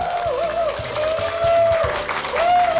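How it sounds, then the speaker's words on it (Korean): A studio audience at a televised Korean lecture-show gives steady applause to welcome a comedian guest, a dense, continuous clapping that swells and dips slightly throughout. "큰 박수로 맞아주십시오"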